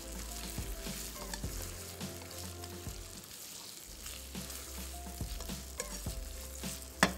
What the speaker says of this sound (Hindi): चिकन डोमेस्टिक और थाई को काट के इसमें शामिल किया, और अब इसकी भुनाई करेंगे।